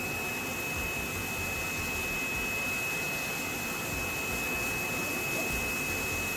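A steady roaring suction drone with a high whining tone on top, continuous and loud, as a homemade dust extractor runs and pulls in compacted year-old sawdust.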